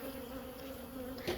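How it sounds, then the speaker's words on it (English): Honey bees buzzing in an opened hive during a split, a soft steady drone with a clear hum, and one bee zipping close past near the end. "There's still bees in here."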